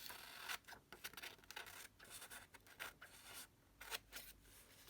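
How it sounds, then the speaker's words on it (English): Quiet, close snipping and rustling as big scissors cut through paper for a junk journal envelope page pocket in a series of irregular strokes, with no voices. "Gotta get my big scissors, then I can do a"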